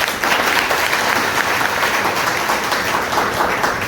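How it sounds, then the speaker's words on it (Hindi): Steady, dense applause from a large audience at a network marketing business seminar in a hall, loud and sustained throughout with no pauses. "उनके लिए एक बार जोरदार तालियां हो जाए"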